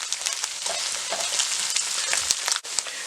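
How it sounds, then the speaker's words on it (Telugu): Egg and Maggi noodles fry in a pan with a steady, loud close sizzle, broken by stirring scrapes and one brief dip near the end, and no voices. "ఇలా ఉడికేసిన తర్వాత మొత్తం కలిపేసుకొని ఒక 2-3 మినిట్స్ వరకు ఫ్రై చేసుకోవాలి."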